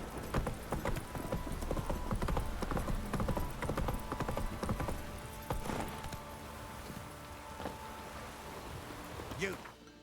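Horse hooves in The Witcher 3 game, a brisk repeated clip-clop of the mount moving over ground with rain-like background, slowing toward the end, while someone talks over it.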